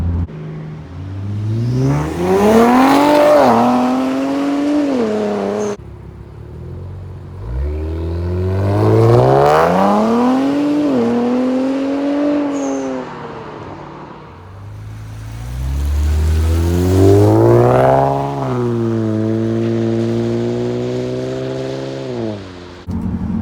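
An Infiniti Q50 3.0t with a Soho Motorsports aftermarket exhaust gives a deep, throaty note, rising and falling through three moderate accelerations, revving up and easing off as it drives normally.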